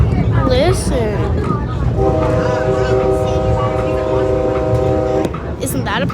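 A passing train sounds a long, steady horn for about three seconds over rolling rail rumble, with a voice briefly heard at the start.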